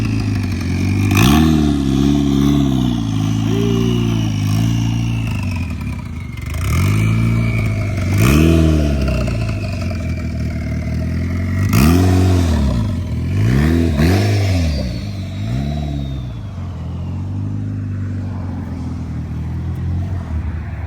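A boosted car with an Ecotec engine at a car show, revved in a series of sharp blips that climb and drop, with a loud idle rumble between them and a turbo-like whine near the end.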